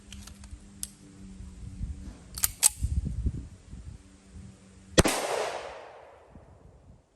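A single .45 ACP hollow point round is fired outdoors during a soft armor test, giving one sharp, loud report with a trailing echo. Light clicks and handling noises come before it.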